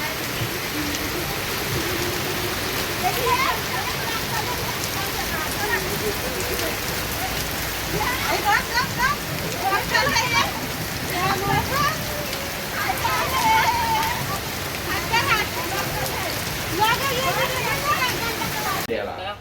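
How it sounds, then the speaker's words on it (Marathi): Heavy rain pours steadily with a dense, loud hiss, while voices talk now and then over the downpour. "खूप जोराने पाऊस आलेला आहे"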